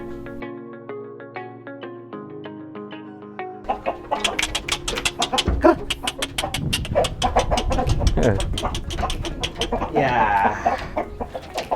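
Borneo Super chickens cluck repeatedly up close, their calls building into a busy flurry over farm background noise, with a person speaking briefly.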